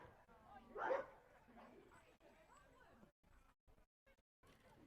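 A dog on the sideline of an outdoor ball game yelps and barks once loudly, then keeps whimpering softly amid distant voices and open-air background.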